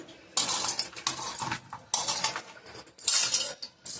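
A ladle scraping and clinking against a pot while stirring a thick jaggery mixture, in repeated close, fairly loud strokes with brief pauses between them.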